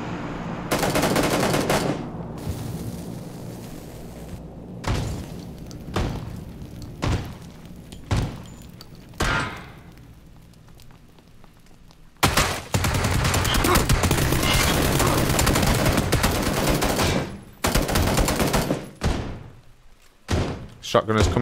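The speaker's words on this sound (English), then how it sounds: "Shotgun is coming through." Shotgun blasts in PUBG, a battle royale shooter: a string of loud, punchy shots in uneven bursts, some dense rapid fire in the middle, and a voice talking over and between them.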